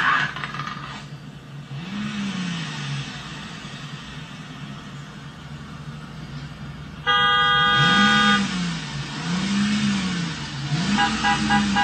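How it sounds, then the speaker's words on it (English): A car horn honks at an elderly woman crossing the road, sounding as a cluster of loud, insistent blasts over a steady rumble of engine and road noise. "he just starts blowing his horn"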